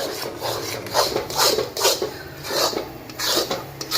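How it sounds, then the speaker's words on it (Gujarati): A spoon scrapes through thick milk mawa in a pan while it is cooked down for thabdi peda, giving about seven steady, rhythmic rasping strokes against the pan bottom, close and clear, with nobody talking. "પેડાના માવાને આવી રીતે સતત હલાવતું રહેવાનું"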